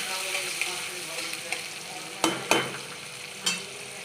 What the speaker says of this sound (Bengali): ভাজা তেলের মধ্যেই আমি পেঁয়াজ কুচি দিয়ে দিলাম।